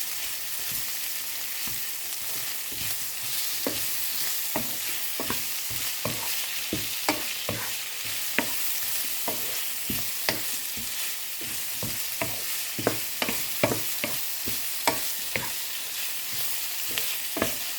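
Minced pork stir-fried with caramelized onion and tomato in a hot pan, a steady sizzle broken by frequent sharp scrapes and clacks of a spatula stirring, close and continuous with no talk.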